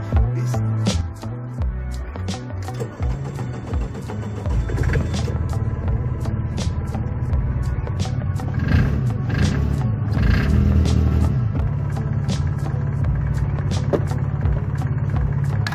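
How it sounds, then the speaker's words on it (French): The Lombardini 492 DCI diesel engine of a Ligier JS 50 microcar runs steadily, a loud, continuous low rattling drone with repeated sharp ticks and clatters on top, and no voices. "Voici le moteur de la voiture, à savoir le Lombardini 492 DCI."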